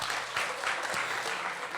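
An audience at a KPU election commission event at a university gives a dense, steady round of applause, many hands clapping close and loud throughout.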